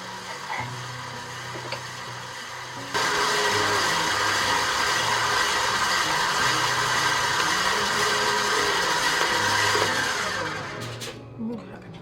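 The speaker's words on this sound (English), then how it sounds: "then you're going to turn the mixer on to a medium to medium-high speed and continue to beat until it becomes light and fluffy" A KitchenAid stand mixer beating ermine icing at medium-high speed, a steady loud whirring drone that starts abruptly after a quieter hum and runs evenly before cutting off near the end, with speech over it.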